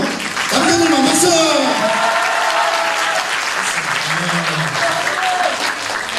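Men in an audience at a church youth camp burst into sustained, loud applause, a dense wash of clapping that fills the room, with a few voices and shouts rising over it.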